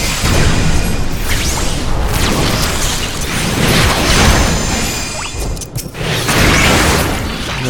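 Final Fantasy XIV Fire II spell goes off in a loud, dense roaring blast with crashing whooshes and impact layers, sustained for several seconds and briefly dipping before swelling again, with no voice over it.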